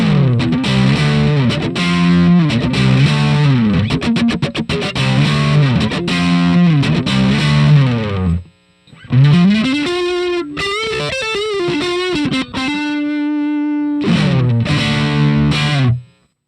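An electric guitar plays through a Boss DS-1 distortion pedal, giving loud, buzzy, overdriven chords and riffs. The playing breaks off briefly in the middle, turns to sustained bends and single notes, then returns to chugging chords.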